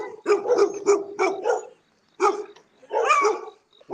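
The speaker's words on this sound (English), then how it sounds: "Them dogs sound like they want to bite something" Several dogs on a city street bark in quick, aggressive bursts, a run of close, loud barks followed by a pause and then another volley.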